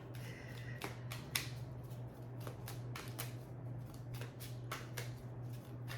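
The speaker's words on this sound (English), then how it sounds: "Make sure you guys can see me shuffling." Rapid papery riffling and soft snapping clicks repeat steadily, like a deck of playing cards being shuffled close by over a low steady hum.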